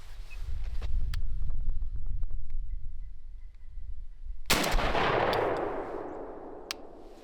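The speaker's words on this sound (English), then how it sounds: "Aiming at the white tag, I'm just gonna shoot." A single loud shotgun blast from a Weatherby SORIX fired outdoors at a pattern target, a sharp broadband crack followed by a long fading rumble, with wind noise and faint background sounds before it.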